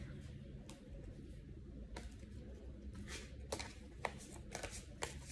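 Tarot cards shuffled and drawn, with quiet papery riffles and flicks of cards spread through the stretch, close and soft.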